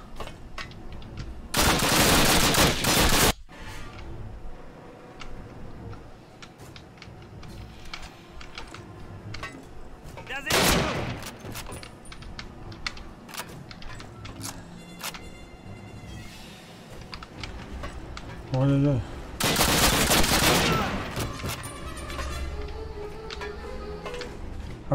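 Call of Duty gunfire, rapid bursts of shots and clicking mixed with keyboard typing, with three loud sustained bursts standing out above continuous game noise.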